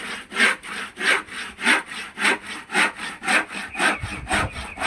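A hand saw cutting through wood for a new table in steady back-and-forth strokes, roughly ten even rasping pulls, close up with no talking.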